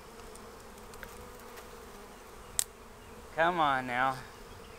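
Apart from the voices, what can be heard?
honey bee swarm buzzing on a tree limb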